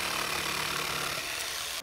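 Wood being sawn by hand by young people building boxes in a Rosenhøj neighbourhood workshop: a steady, dense rasping stroke fills the clip up close, then cuts off abruptly near the end.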